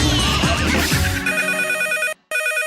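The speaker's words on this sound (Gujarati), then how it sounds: "ફોન આવ્યો કાકા." A telephone rings loudly with a steady electronic trill that starts after a burst of mixed noise, breaks off in a short silence and then resumes.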